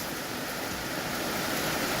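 Rain pours steadily in a garden, water running off the eaves into pots, making a dense, continuous hiss with no pauses and no voices.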